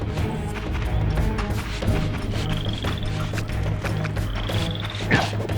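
A frog croaks in the video game Soul Reaver 2, low repeated croaks over a dense game soundscape with thuds and whacks, and a thin whistling tone sounds twice.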